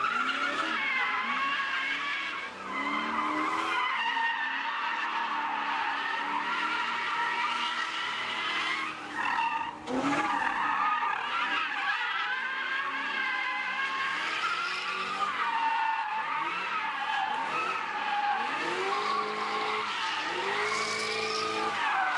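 Widebody Nissan 240SX drift car skidding during warm-up, long sustained tire squeals rising and falling with revving engine, continuous and fairly near, no talk.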